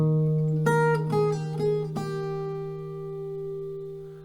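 Acoustic guitar picking out a short C-chord phrase, a few separate notes plucked in quick succession over a sustained bass note, then left to ring and fade, played solo with no voice.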